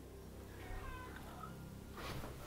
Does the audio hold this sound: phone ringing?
no